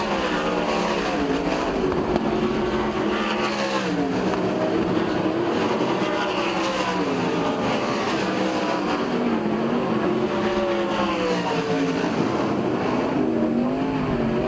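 Sprint-style race cars roar through the final corner and across the line at the end of heat race number 3 at Port Royal Speedway, several engines overlapping in a loud, continuous wail with rising and falling pitch sweeps as cars pass.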